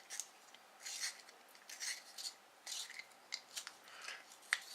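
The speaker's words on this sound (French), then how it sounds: "Avec les doigts qui glissent, c'est génial de tailler un crayon" A makeup pencil is sharpened by hand, giving a series of soft, dry scraping strokes in uneven bursts, faint and close with quiet gaps between them.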